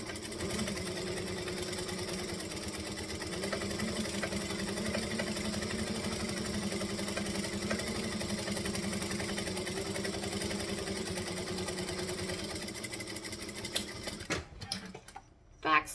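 Domestic sewing machine stitching fabric for a garment, a steady close mechanical hum and rapid needle rattle running continuously before stopping, followed by a few handling clicks.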